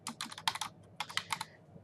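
Rapid clicking of keys on a computer keyboard in two quick bursts, close and crisp, with no voices.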